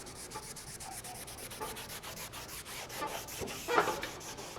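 Steady scratchy rubbing, a soft pad working back and forth over a painted patina surface in a continuous close-up rasp.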